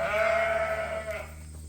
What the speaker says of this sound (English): So now this barn is full of ewe lambs.